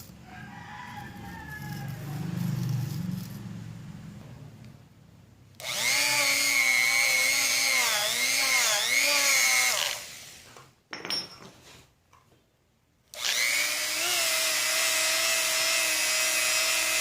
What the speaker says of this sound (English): I'm gonna polish the inside of this cylinder as well as on this clutch sleeve